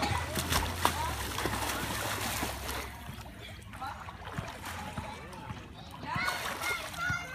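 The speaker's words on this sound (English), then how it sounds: "Go ahead and get your swim on." A child swims and splashes in an outdoor pool, with continuous close water sloshing and splatter throughout and brief stronger splashes near the start and end; adults' voices talk over the water.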